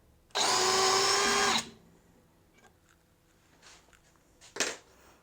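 DeWalt Powerstack DCD778 hammer drill, one loud whirring burst of just over a second that winds down, then quiet handling knocks and a short sharp clack near the end.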